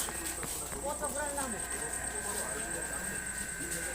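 Several calm cattle, cows bound for Qurbani sale, walk on the ground with soft, irregular hoof steps, heard amid steady outdoor background noise and voices.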